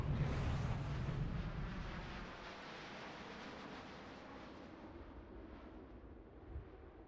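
Radar-guided missile striking and exploding on an F-16C jet in a flight game, a loud heavy blast at the start fading into a long rumbling roar and steady aircraft noise.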